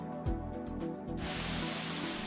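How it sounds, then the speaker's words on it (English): Molten coating agent is blasted at high speed onto tiles in thermal spraying, starting with a few sharp clicks and a low hum before a loud, steady hiss of spray takes over and holds. "In thermal spraying, the coating agent is melted and then blown onto metal or other surfaces at a high speed."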